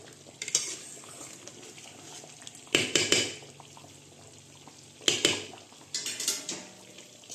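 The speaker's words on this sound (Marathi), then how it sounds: "एक दोन एक दोन मिनटांनी असं हलवायचं" Stuffed brinjal curry, village style, stirred in a pan: a few bursts of metal spoon scraping and clanking against the pan at intervals, over a soft steady cooking hiss, with no talking.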